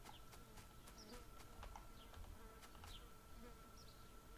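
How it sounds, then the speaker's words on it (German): A fly buzzes faintly in the background of a quiet room, a thin continuous drone with soft bird-like chirps and light clicks scattered around it. "Und da ist eine Fliege im Hintergrund."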